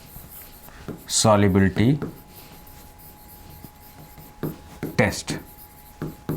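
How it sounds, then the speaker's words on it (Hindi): Chalk or marker writing on a board during a chemistry lecture, with a few brief scratchy strokes at close range around and after a man's speech. "यहाँ पर मैं लिखता हूँ डाई"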